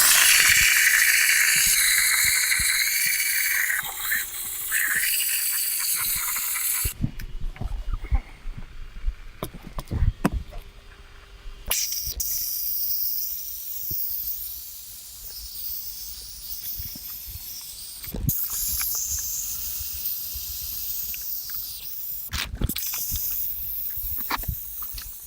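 Steady steam hiss from a steamer during window tint film work on a Lamborghini Urus, loud and broadband, cutting in and out in long bursts with short breaks and some faint clatter in between.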